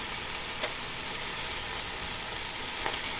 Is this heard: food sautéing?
yes